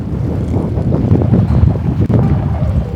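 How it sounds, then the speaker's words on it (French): Strong wind gusts buffet the microphone on the island of Fuerteventura, a loud continuous roaring rumble with fluctuating intensity and no voices. "D'ailleurs, ce vent, faut en parler."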